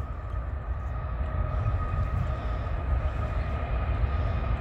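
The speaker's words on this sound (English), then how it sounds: "Freight train." Low, steady rumble of an intermodal freight train rolling past at a distance, continuous and fairly faint.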